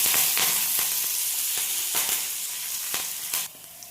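Finely chopped ginger, small shallots and curry leaves frying in hot oil for moru curry, with a loud hissing sizzle and light stirring scrapes, close up; the hiss drops off sharply near the end, with no talking.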